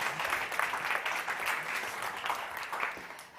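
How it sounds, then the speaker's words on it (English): An audience at a startup competition event claps in a dense, steady burst of applause that fades slightly at the end. "Big applause."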